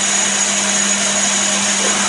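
A Chester DB10 lathe drills from the tailstock with a steady mechanical whine and a constant low hum, loud and close, with no pause.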